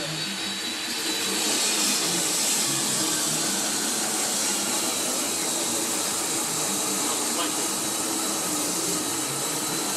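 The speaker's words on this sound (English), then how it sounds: "I'm going to be cutting 1/4-inch wall square tubing. We're going to do it with our traditional bonded abrasive cutoff method." A bonded abrasive cutoff wheel grinds through 1/4-inch wall square steel tubing, a steady, loud, harsh whine that holds unbroken throughout.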